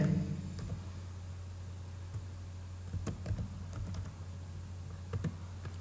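Typing on a computer keyboard during an HTML lesson, a run of light, close key clicks in irregular bursts over a steady low hum.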